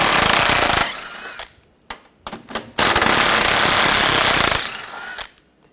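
A 13mm socket on a rattling impact wrench zips off sway bar bracket nuts on a 2004-2009 Audi A4 Quattro, two loud close bursts of hammering with short clanks between them.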